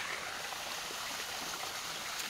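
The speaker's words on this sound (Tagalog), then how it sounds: "So ito yung ngayong ilog sa amin." River water flowing steadily at Silang, a continuous broadband rush close by and fairly quiet, with no voices over it.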